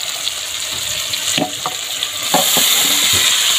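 Boiled potatoes tossed into spiced masala in hot oil: loud, close sizzling of frying with a few clattering stirs and scrapes of the spatula, the hiss swelling louder toward the end.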